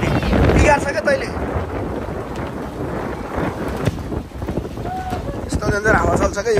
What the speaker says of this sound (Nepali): यस्तो झन् हावा चल्छ क्या यो एरियामा चाहिँ